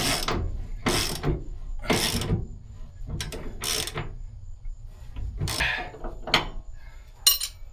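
Truck U-bolts are tightened and torqued on an S10 suspension, a sequence of sharp ratcheting clicks in short bursts, close and distinct, separated by quiet pauses.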